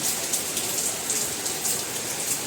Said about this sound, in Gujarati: કાલનો આવી જ રીતના વરસાદ પડી રહ્યો છે